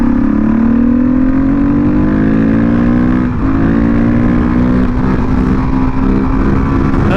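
A Husqvarna 510 SMR six-speed supermoto's engine revs hard while riding, a loud, close, sustained drone whose pitch climbs steadily, dips briefly as a gear changes, then rises again, with no talking.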